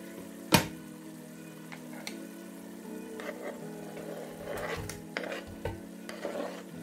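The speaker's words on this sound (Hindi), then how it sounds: "इसका प्याज गल गया है, अब हम इसमें" Tomatoes go into a pan of softened frying onions for a beef kofte curry: one sharp clatter at the start, then steady low sizzling with scattered scraping and stirring knocks, close and moderately quiet.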